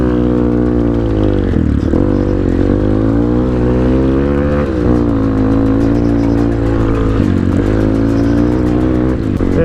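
A GPX Moto FSE 250e motorcycle being ridden at Soldier's Pass, its engine droning loud and close throughout, the pitch rising and falling as the throttle opens and eases off.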